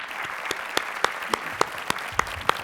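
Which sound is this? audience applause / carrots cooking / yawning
audience applause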